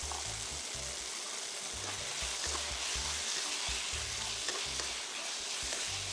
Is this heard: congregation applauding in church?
no